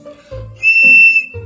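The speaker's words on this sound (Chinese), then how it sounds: "这个口哨我练了好几天了，我给你们试一下啊。" A plastic toy water bird whistle blown dry without water gives a few short breathy toots, then one sustained shrill whistle tone before trailing off into another brief toot.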